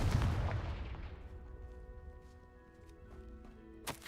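The Confringo fire-blast spell in Hogwarts Legacy erupts as a loud, booming explosive blast that decays into a long rumbling tail, followed by a faint later clatter.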